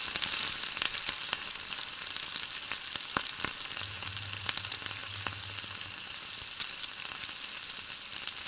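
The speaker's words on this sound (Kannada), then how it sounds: "ಗೋಡಂಬಿ ಹಾಕೋದ್ರಿಂದ ಚೆನ್ನಾಗಿ ಬರುತ್ತೆ ವಾಂಗಿಬಾತು ವಾಂಗಿಬಾತು ಟೇಸ್ಟು ತಿನ್ನೋಕ್ಕೆ ಎರಡು ಚೆನ್ನಾಗಿ ರೀತಿಯಾಗಿ ಮಿಕ್ಸ್ ಮಾಡಿಕೊಂಡು ಫ್ರೈ ಮಾಡ್ಕೋಬೇಕು" Cashews and spices sizzle and crackle steadily in a hot pan for vangi bath, a dense close frying hiss with scattered pops throughout and no voices.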